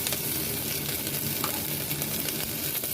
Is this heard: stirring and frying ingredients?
yes